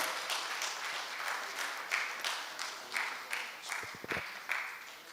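Applause from an audience at an annual lecture event greets a woman coming forward to speak; a steady wash of clapping rises in surges, with a few sharper bursts near the end.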